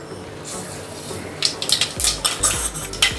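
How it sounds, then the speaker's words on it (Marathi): Mustard seeds drop into hot oil for a spinach dal tempering. A few metallic clinks come first, then a close burst of crackling spatter with sharp pops that grows busier toward the end. "तेल गरम झालेलं आहे मोहरी घालते"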